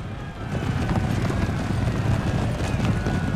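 Cavalry horses charge in the Empire Total War strategy game, a dense, continuous rumble of many hoofbeats with faint neighs, loud and steady throughout.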